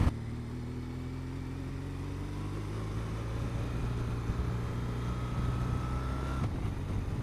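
A 2015 BMW R1200R boxer twin hums steadily under engine braking while rolling along, a low continuous drone with a slowly falling pitch and steady wind rush, the whine shifting near the end.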